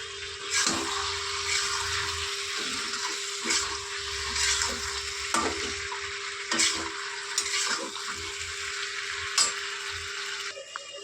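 Grated ginger and cumin powder fry in a pan before kolmi greens are added, giving a steady close sizzle with intermittent stirring scrapes and clinks.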